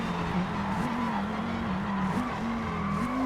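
A Volvo 850R brakes into a left hairpin, with steady tire squeal and skidding over a constant engine tone, loud and close, with no speech.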